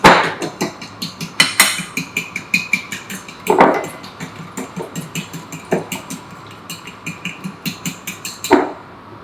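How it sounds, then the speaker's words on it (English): A whole egg being beaten with a whisk or fork for schnitzel breading, giving rapid, rhythmic clicking and tapping strokes against a bowl, fairly close and steady, with a few louder knocks, and no talk. "we're going to beat that up either with a whisk or with a fork"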